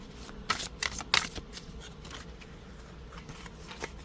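A deck of tarot cards is riffled and shuffled by hand nearby in two quick bursts of crisp, papery fluttering, followed by a few softer, scattered card flicks in a quiet room.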